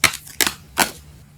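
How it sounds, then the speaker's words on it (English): Tarot cards being shuffled up close, three quick crisp riffling bursts spaced about half a second apart, with a faint steady hum underneath. "I'm gonna shuffle one more."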